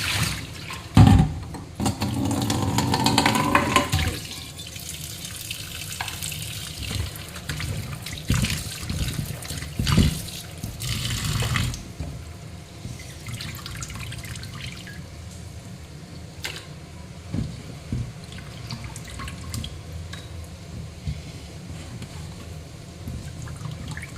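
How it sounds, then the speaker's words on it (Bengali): Mutton being washed under a running kitchen tap, water splashing and trickling steadily with occasional drips and handling noises, close and moderately loud, no voices. "মাটন বোধহয় পারলে আমি আরও 2-4 জলে একটু বেশি দিয়ে ধুই"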